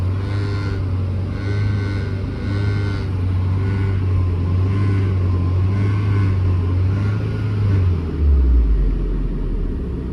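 The engine of an Opel Tigra with suspected bad engine mounts runs at a steady idle, producing a loud, close droning hum with vibration that drops lower in pitch near the end.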